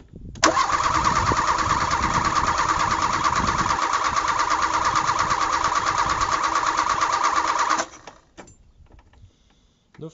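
The engine of a salvaged wreck, choke fully out, cranks and catches, then roars loudly and steadily for about seven seconds before cutting off abruptly, leaving faint rustling.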